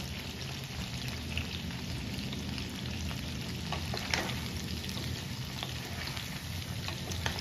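Chicken pakora pieces bubble in deep oil, giving a constant close hiss with light rain-like pattering and occasional brighter crackles.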